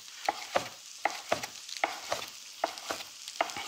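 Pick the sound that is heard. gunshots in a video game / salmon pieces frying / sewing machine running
salmon pieces frying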